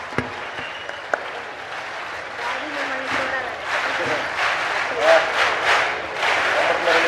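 Audience applause at a school ground inauguration event, a broad wash of clapping that swells and holds steady through the middle and end, moderately loud with crowd murmur beneath.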